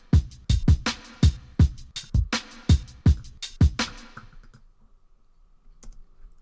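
A punchy drum track for a beat, run through SSL EQ, CLA compression and a limiter, hits about ten sharp, evenly spaced strokes, then stops and fades into near silence.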